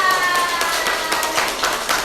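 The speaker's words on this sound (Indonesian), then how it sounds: "Tepuk tangan untuk Mbak Melia." An indoor group at a teen psychoeducation session applauds, a short burst of scattered hand clapping, fairly close and with no talk over it.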